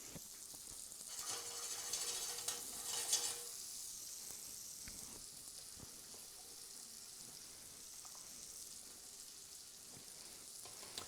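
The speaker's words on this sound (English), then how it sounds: "the cream started boiling up" Cream for chicken alfredo boils and bubbles in a pan on a stovetop, a close, steady frothy sizzle that is loudest in the first few seconds and then settles into a softer continuous hiss.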